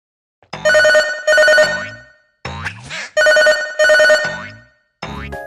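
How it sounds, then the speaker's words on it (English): A phone rings in the video game Crow 64, with loud synthetic two-tone electronic trills in paired bursts separated by short gaps and a springy boing-like effect between them. "doing that starts the ringing of a phone"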